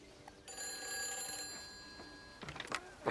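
A telephone rings in the video game Everybody's Gone to the Rapture, a sustained bright electronic ringing tone that cuts off, followed by a few quick clicks and knocks.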